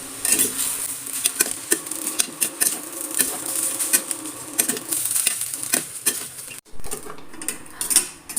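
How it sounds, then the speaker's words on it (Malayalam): Cooked jeerakasala rice tossed with raw mango in a pan, heard as a steady run of close clinks and scrapes from a spoon against metal, with a brief pause near the end and no voices. "ഇനി നമ്മളത് നല്ലോണം ഒന്ന് മിക്സ് ചെയ്തെടുക്കാം."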